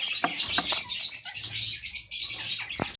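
Pet parrots or similar cage birds chirping and tweeting continuously at close range, with repeated sharp high calls and a few brief louder squawks, no talking.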